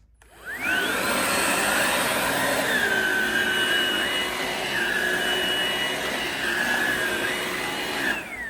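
Ryobi cordless vacuum cleaner whirring on its low setting, spinning up from quiet to a steady high whine that holds with slight wavering pitch, loud and close, then briefly dipping at the end.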